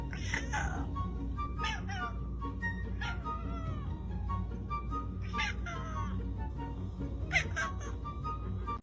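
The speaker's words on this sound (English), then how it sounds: "So when your cat meows at you" A Manx cat meows several times in short, separate calls spread across the stretch, fairly close, over a low steady indoor background hum.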